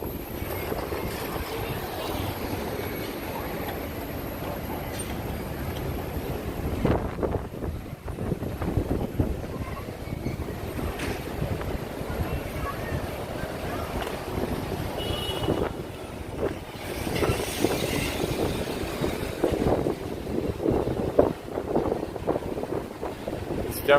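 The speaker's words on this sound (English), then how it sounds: "It's definitely getting windier." Gusty wind outdoors in Central Park on New York's Upper East Side buffets the microphone in a continuous rough rumble that swells and eases, with distant city noise underneath.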